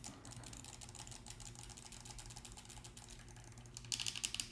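Rapid, crisp clicking from mouse-click face buttons and D-pad on a custom-built Pro PS5 controller, a dense run of close, light taps that grows louder and sharper near the end.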